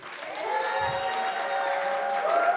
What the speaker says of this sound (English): Please start clapping.